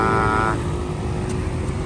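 Dense, loud road traffic streams past the bus depots on Jalan Singamangaraja on the busy eve of the Eid holiday travel rush. A steady engine roar is broken by a brief tonal horn-like blare at the start.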